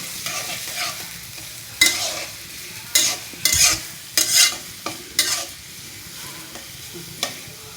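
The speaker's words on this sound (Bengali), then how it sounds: "আমাদের পেঁয়াজ কাঁচামরিচ দিয়ে নিলাম, একটু হালকা ভেজে নিব" Onion and green chili frying in a pan, a steady soft sizzle broken by several loud scraping stirs of a utensil against the pan, close and with no talk.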